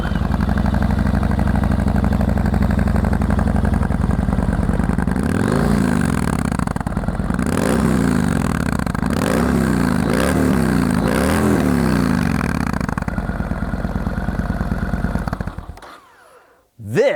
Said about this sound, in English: Not one VTwin naked bike sounds quite like this thing.